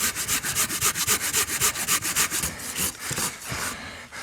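A handsaw fitted with a fresh blade cuts through a big tree trunk, giving rapid, evenly spaced rasping strokes of wood on wood. The strokes are loud and close, then slow and turn irregular toward the end.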